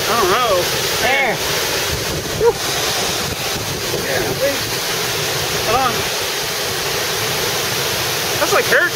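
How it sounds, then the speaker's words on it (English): Severe thunderstorm winds roar in a constant heavy rush and buffet the microphone near a pond, with people talking faintly beneath the loud wind noise. "How strong do you think the winds are blowing?"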